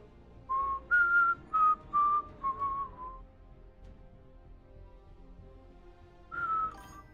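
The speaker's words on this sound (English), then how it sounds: "Sorry, I'm whistling." A person whistles a short tune of about six sustained, clear notes, then falls quiet, then sounds one more note near the end, close and alone.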